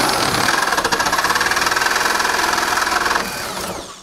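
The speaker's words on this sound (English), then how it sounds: "I'll have to finish the rest off with the Sawzall, I think." A variable-speed Sawzall reciprocating saw cuts through the battery tray of a 2001 EZGO TXT 36-volt electric golf cart, giving a loud close buzzing rattle that runs steadily for about three seconds and then slows and winds down.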